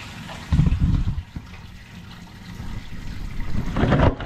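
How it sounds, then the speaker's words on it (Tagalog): Water splashes and gushes from a running tap, with uneven surges and sloshing as it fills or rinses, close by and fairly loud. "Lagyan ko muna ng tubig."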